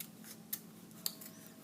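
Small scissors snip paper close by with two sharp clicks against a faint steady hum.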